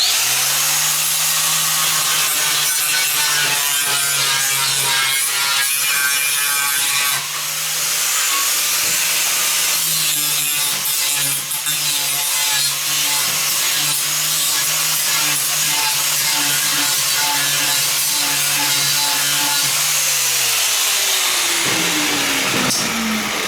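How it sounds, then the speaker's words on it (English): A power sander shapes a flared metal wheel arch in an automotive fabrication shop, giving a loud, continuous motor whine with a rough grinding hiss that runs steadily and alone for over twenty seconds. "Move over to our sander."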